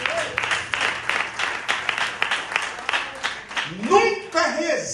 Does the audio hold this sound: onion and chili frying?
no